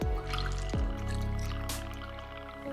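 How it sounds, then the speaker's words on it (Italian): Gin, 6 cl of Cooper, poured into a glass for a Mule cocktail: a short liquid trickle and splash close up, steady for under three seconds with a brief drip-like onset. "Inseriamo 6 cl di gin Cooper."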